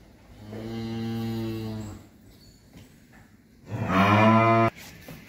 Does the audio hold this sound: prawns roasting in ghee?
no